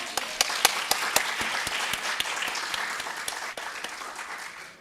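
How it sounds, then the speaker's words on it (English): A crowd at an entrepreneurship panel event claps in sustained applause, with a few sharp individual claps standing out over the steady patter, which holds fairly even before easing slightly toward the end. "Let's have another round of applause."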